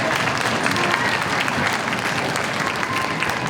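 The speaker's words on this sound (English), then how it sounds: "So let's give Miss Harney a round of applause" Dense, steady applause from an audience at an elementary school fifth-grade band concert, loud and continuous throughout.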